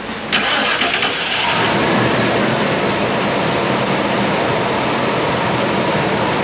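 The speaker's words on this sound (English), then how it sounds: "Let's restart the engine, make sure it runs good." A Ford F150 pickup with a 5.0 V8 and a blown-out spark plug cranks and starts, catching quickly into a loud, rough, steady run that stays close and constant with no voices.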